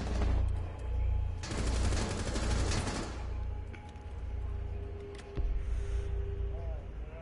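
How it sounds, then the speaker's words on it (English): Rapid bursts of gunfire from outside a window in the tactical shooter Rainbow Six Siege, a dense fusillade of repeated shots in two heavy stretches, with fainter scattered shots afterward. "It's just those shots out the window."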